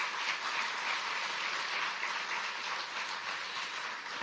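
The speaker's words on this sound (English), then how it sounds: "please give every single member of the IBM community here a round of applause" An audience applauds at an IBM Research Africa lab anniversary event in Kenya, a steady, dense clapping that carries on evenly for a few seconds without voices.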